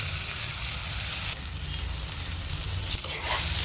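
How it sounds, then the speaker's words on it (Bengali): Lentil dumplings (badi) are tipped into tomato and onion already frying in a pan, giving a loud, close, continuous sizzle with stirring clatter and a couple of sharper scraping bursts, with no talking over it. "এবার মা বড়িগুলো এর মধ্যে দিয়ে দেবে।"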